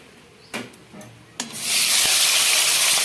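Shrimp drops into hot oil for potol chingri: two brief splashes, then a loud, steady broadband sizzle that fills the rest of the pan sound.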